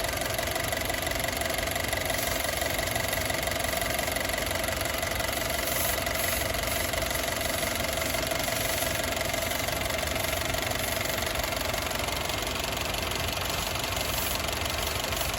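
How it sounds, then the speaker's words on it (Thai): A 2016 Honda City running on gas, with a persistent fault despite new coils, spark plugs and gas injectors, idles loudly and steadily up close, a dense continuous engine drone with a slight knocking texture throughout. "ตอนนี้เครื่องนิ่งแล้ว"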